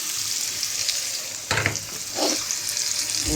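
Onion and bitter gourd hit hot oil in a home kitchen: a soft, steady sizzle that flares into louder crackling bursts as the vegetables go in and are stirred.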